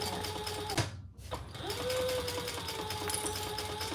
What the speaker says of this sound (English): Top stitching that top edge